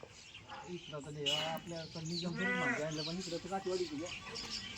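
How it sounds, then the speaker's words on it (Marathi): Kathiawari sheep bleat nearby, wavering calls rising over a background of chatter, with faint bird chirps now and then. "कोणते मेंढ्या काका या काठेवाडी का निजामपुरी"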